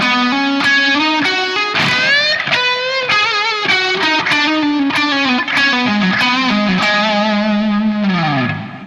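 An overdriven electric guitar rips through a fast lead lick from a solo, with bends and quick picked notes, loud and sustained, ending on a sliding note.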